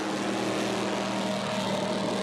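A helicopter trails water skiers up a river during the Southern 80 water ski race, giving a steady, droning rotor and engine hum that stays constant and moderately distant with no talk over it.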